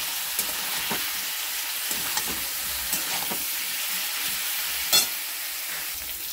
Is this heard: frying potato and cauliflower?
yes